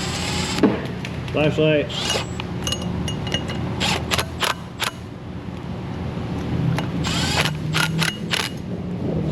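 A ratchet tightens engine oil cooler bolts in a series of sharp, close clicks and metallic clatter spread across the span, with brief speech in between.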